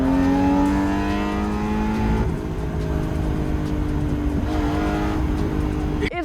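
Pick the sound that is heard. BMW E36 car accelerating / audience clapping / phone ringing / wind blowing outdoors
BMW E36 car accelerating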